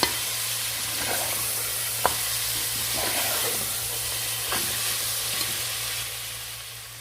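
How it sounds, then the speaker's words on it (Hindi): Mutton sizzles and hisses steadily as it fries in a hot pot, with occasional scraping clanks from a spoon stirring it. "हमने इसे 5 से 6 मिनट तक अच्छे से भून लेना है।"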